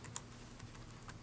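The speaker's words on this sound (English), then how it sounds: "And now I'll just type in" Soft clicks of keys on a computer keyboard come in a short, quiet burst of typing, faint and close, with a few distinct taps over a low background hum.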